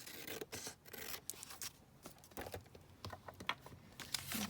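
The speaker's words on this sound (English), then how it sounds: "I'm just going to literally snip off a tiny slither from here" Scissors snipping a tiny sliver off a paper page, a quick run of close, crisp cuts and rustles with no voice over it.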